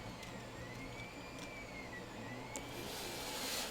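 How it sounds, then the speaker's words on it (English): A 3D printer runs steadily, its stepper motors humming and whining in a continuous mechanical drone with shifting pitch, fairly close and alone with no talk. "sorry again for the 3D printer noises"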